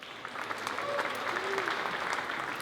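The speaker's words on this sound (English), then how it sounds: "Please have a round of applause for Varya Stepanova." Conference audience applauding a speaker at a web design event: a brief, steady wash of clapping from a crowd, moderately loud and even throughout.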